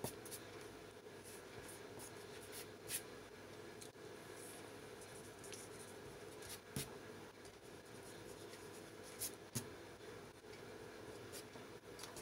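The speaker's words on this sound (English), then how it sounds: "I'll erase off the extra projection lines" Pencil projection lines are erased from paper in soft, continuous rubbing strokes, with a few sharper scuffs and taps, faint and close, over a steady low room hum.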